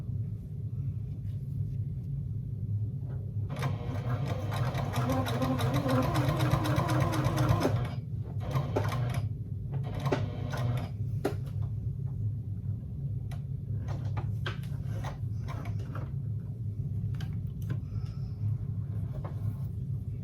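A sewing machine stitches beneath the top card slot of a fabric wallet, a steady mechanical whir with a louder burst of fast stitching, then shorter runs and clicks over a low background rumble.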